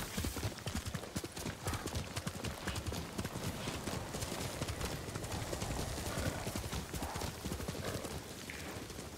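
Rapid hoofbeats of a galloping horse in Ghost of Tsushima pound steadily throughout, with a brief whinny; no voices, just continuous game-style clip-clop.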